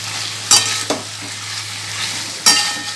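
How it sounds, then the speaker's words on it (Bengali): Meat sizzles as it is sautéed with butter in a pan, a close, loud, constant frying hiss broken by a couple of sharp scraping strokes of a spoon, with no talking. "আমি কিন্তু মাংসটাকে কষে ফেলবো মাখনের সঙ্গে।"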